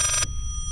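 A telephone rings backwards in the horror video game Layers of Fear: one short, bright, tonal ring that cuts off abruptly and leaves a low, quiet hum.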